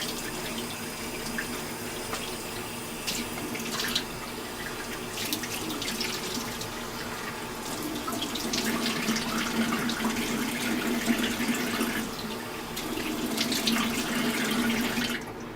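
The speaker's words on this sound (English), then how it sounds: "And I use lukewarm water when doing this." A bathroom tap runs steadily into a sink while a face is washed with lukewarm water, a continuous close splashing flow with slight shifts in intensity as hands move through the stream.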